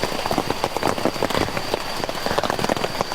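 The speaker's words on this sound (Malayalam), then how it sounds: "ഇന്ന് രാത്രി മൊത്തം മഴയത്ത് കിടക്കാം" Rain drumming on a leaking tent at night during wild camping in a forest, a dense, close pattering of drops that runs loud and continuous for the whole stretch.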